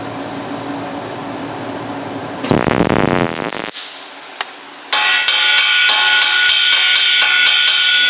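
A hammer strikes hot, tack-welded steel during a TIG-welded cart build, landing a loud burst of rapid metallic blows, then one sharp hit, followed by a steady ringing hum of shop equipment.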